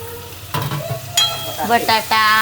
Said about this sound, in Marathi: सर्व वस्तू छान फ्राय होऊन गेलेल्या आहेत. आता याच्यात टाकते लास्टमध्ये बटाटा.